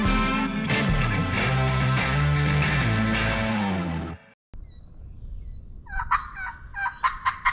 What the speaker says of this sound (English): that's one of them mile or more turkeys. Gobble, though.